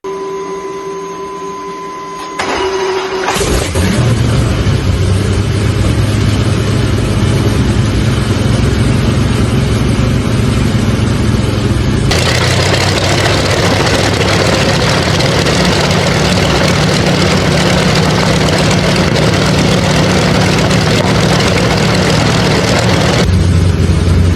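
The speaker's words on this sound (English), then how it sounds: "Twin Wasp powering a DC-3, a World War II aviation legend, firing up with a gritty rumble" A DC-3's Twin Wasp radial aircraft engine cranks and catches, building into a loud, gritty, continuous rumble that shifts and roughens partway through.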